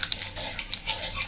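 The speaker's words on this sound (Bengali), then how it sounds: "তেল তো ভালো গরম হয়ে গেছে, এখন ফোড়নে দিয়ে দেবো। দিচ্ছি শুকনো লঙ্কা আর জিরা।" Dried red chili and cumin hit hot oil in a brief, bright sizzle of crackling hiss, heard up close for just over a second.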